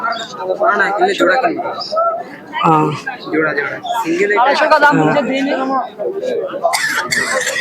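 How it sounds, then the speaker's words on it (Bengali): Pigeons coo repeatedly at a busy pigeon market in West Bengal, with soft throaty calls close by amid crowd chatter and other bird sounds. "সুন্দর কোয়ালিটি কবুতর আছে"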